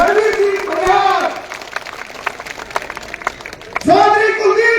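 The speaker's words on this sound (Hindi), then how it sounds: "जोरदार तालियां" Crowd applause at a BJP candidate's political rally in Malkheda, Haryana, loud clapping that swells, dips briefly, then returns strongly, with a voice over it at the start and end.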